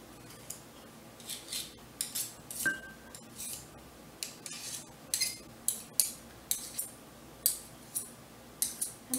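Shortbread cookie dough mixed in a bowl, a run of sharp clinking and scraping strokes against the bowl, close and fairly regular, with no talking.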